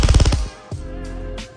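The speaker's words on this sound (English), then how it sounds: "Let's go ahead and swap it over into full auto and do a couple quick bursts." Full-auto bursts from a Krytac CRB airsoft electric rifle, a rapid close, loud rattle of shots that stops abruptly, followed by a quieter mechanical hum and a couple of faint clicks.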